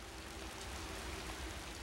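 Steady rain in the survival video game Raw Danger, a soft, continuous hiss of falling water that runs evenly throughout with no other sounds.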